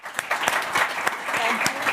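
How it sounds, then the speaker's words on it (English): Applause for a panel at a virtual programmatic advertising industry event, scattered distinct claps from a small group, fairly close and irregular, with a voice speaking faintly underneath. "We have a round of applause for the panel."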